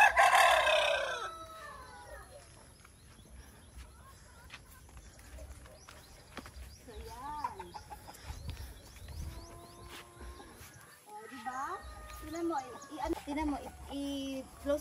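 Rhode Island White chickens in an egg-laying house: a rooster crows loudly at the start, then hens cluck and squawk on and off among rustling, with a person talking now and then.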